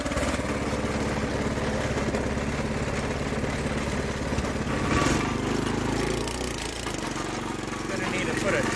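A small go-kart engine runs steadily nearby, a buzzing mid-pitched drone with slight throttle changes, heard outdoors during a community trash pickup with a voice talking over it.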